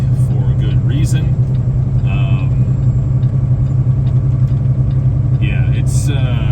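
A semi-truck engine drones steadily with a low rumble while driving through an Oregon snowstorm, loud and close throughout, with brief higher squeaks and tones surfacing now and then.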